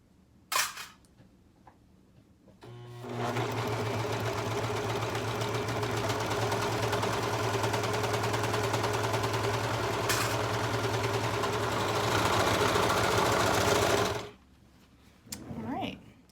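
A serger runs steadily for about eleven seconds, stitching fabric for a bra, loud and close with a constant mechanical whir, starting and stopping cleanly with brief handling noises before and after.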